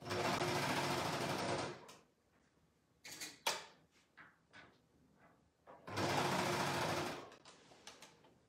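A sewing machine stitches fabric for baby slippers in two steady, loud runs of fast whirring, separated by clicks, handling noises and brief pauses.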